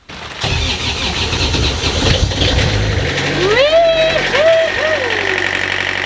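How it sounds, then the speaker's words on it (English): Universal M30 marine diesel engine cranking on a replaced starter, with a loud whirring crank that catches into a rough running idle, nearby and continuous, with brief rising whine tones over the engine. "So now we just need to connect a solenoid back to the battery and then try and start the engine."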